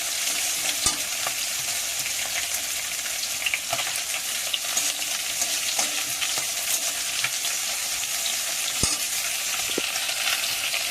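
Chopped onion, panch phoron and green chilli frying in hot oil, a constant bright crackling sizzle with scattered pops and occasional stirring scrapes, close up with no talking.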